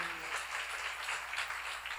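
Applause from a church seminar congregation, a steady wash of many hands clapping at moderate volume throughout, without distinct individual claps.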